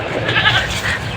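Several farm goats bleat back after being called by name, their cries overlapping in a steady, fairly loud cluster with no talk.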